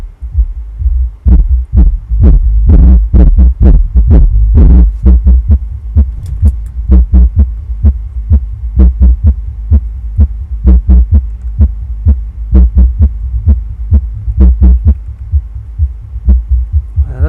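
Music plays loudly through a repaired MTX TX81000D car amplifier, dominated by heavy, rhythmic bass thumps pulsing steadily with no talking.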